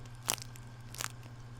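Two crisp, crunchy bites of a flaky croissant, close to the mic, about a second apart, over a quiet background.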